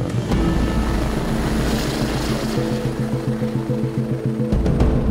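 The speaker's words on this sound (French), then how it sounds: "c'est des hélicoptères EC-145 très puissants avec un treuil qui permet de travailler à 90 mètres" An EC-145 mountain rescue helicopter's rotor thumps rhythmically over a steady engine drone, loud and fairly close, holding its pitch without any voices.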